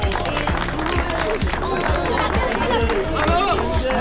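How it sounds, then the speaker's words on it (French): Crowd at an outdoor summer biathlon awards ceremony clapping for the finishers, a continuous wash of applause and chatter over steady thumping background music, fairly loud throughout. "On peut les applaudir bien fort"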